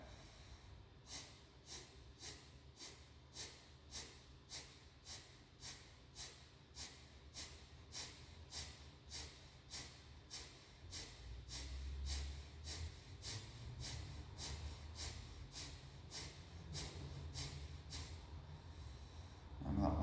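Bellows Breath yoga breathing: about thirty sharp, rhythmic nasal snorts pumped at an even fast pace, close and clear, followed by a quieter, softer stretch of breathing.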